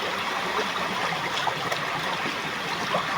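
Flood-swollen river rushing close by, a steady full hiss of flowing water with faint gurgles and no voices over it.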